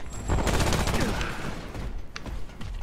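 Rapid bursts of gunfire from the video game Remnant: From the Ashes crack in a dense fusillade, loud and close, then taper into a few scattered shots.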